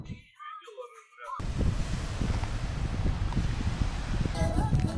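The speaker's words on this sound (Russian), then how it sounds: "прошла уже пыльная буря, до сих пор дует ветер" Lingering wind after a dust storm on the shore of Lake Alakol ahead of rain, blowing as a steady broadband rush with gusty swells; a short stretch of faint talk opens before the wind takes over.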